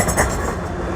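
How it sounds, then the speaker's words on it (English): A tram rolls past on a street in Sofia, a steady close rumble of wheels on rail with a rattling, clattering texture that holds through the whole short moment. "You can see another tram."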